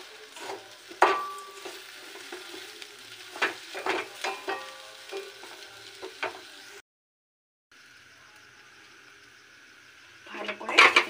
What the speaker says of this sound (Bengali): মিক্স করে নেব।